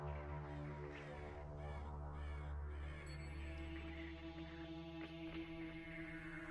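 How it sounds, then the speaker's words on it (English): Crows caw several times in the distance over a low, sustained, eerie droning tone in Ravenholm from the game Half-Life 2, quiet and with no talking. "Immediately upon starting the chapter, this unnerving sound plays and a couple of crows fly off in the distance."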